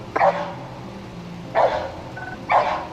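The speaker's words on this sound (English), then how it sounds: "I don't think you want to get bit by a dog" A police dog barks three times in separate loud bursts, spaced roughly a second apart, close by over a low background rumble.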